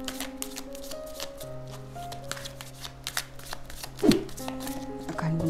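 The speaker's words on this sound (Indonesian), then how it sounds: "Bunda akan shuffle kartunya dulu." A deck of cards being shuffled, the riffling soft and close amid a steady sustained musical drone, with one brief louder flutter near the end.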